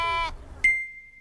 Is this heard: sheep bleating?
yes